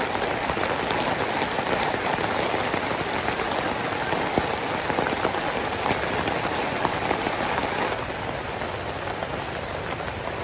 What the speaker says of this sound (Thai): เย็นเพราะฝนตกลงมาเย็นคักเย็นแห้ง